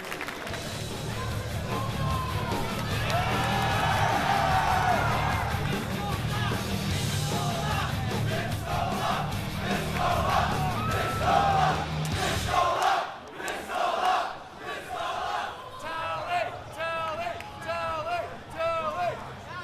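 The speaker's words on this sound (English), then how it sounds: "while that map was playing down, the Anaheim crowd was chanting for Pistola" An arena crowd in Anaheim at a Halo esports winners bracket final chants and roars in a loud, sustained wash, then breaks into ragged rhythmic chanting and cheers that rise and fall.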